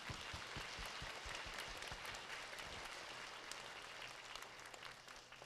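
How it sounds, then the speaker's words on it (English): Elementary school audience claps together in a steady, sustained round of applause at a holiday sharing parade, a dense wash of hand claps holding at an even level throughout. "how about a round of applause for all of them?"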